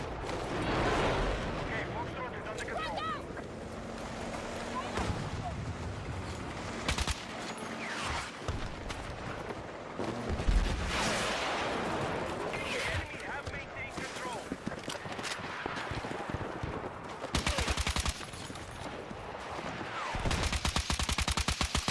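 Rapid bursts of gunfire from a favourite weapon in a video game crackle on and off over about twenty seconds, dense repeated shots mixed with a voice talking throughout.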